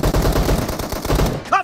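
Rapid automatic gunfire in PUBG Mobile team deathmatch, a loud burst of repeated shots lasting over a second before breaking off, with a brief voice-like tone at the end.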